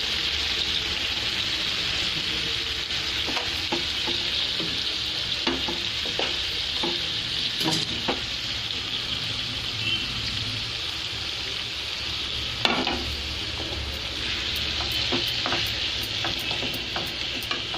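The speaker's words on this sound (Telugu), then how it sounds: "ఇవి అలాగ నూనెలో అలాగ మనం కాసేపు మగ్గించాలండి." Chopped tomatoes for pickle cook in hot oil with a continuous soft sizzle and bubbling, broken by occasional utensil taps and stirring scrapes, close-up and with no talking.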